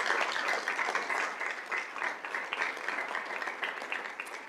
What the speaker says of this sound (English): So now you can give him a big round of applause.